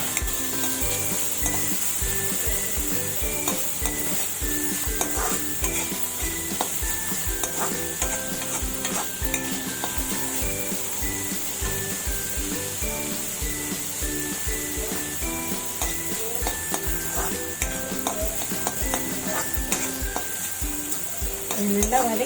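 Onions being sautéed in a pan for paniyaram make a long, steady sizzle with frequent rhythmic spatula scrapes and clinks against the pan. No one speaks.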